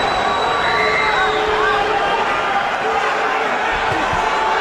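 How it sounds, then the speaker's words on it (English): A boxing arena crowd at the Manny Pacquiao vs David Diaz fight of June 28, 2008 roars in a dense, steady wall of cheering and hubbub that fills the whole stretch, with a voice faintly woven through it. "And you hear the adoration of the crowd."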